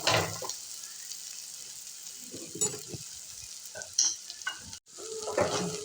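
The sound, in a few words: stirring and sautéing spices for pav bhaji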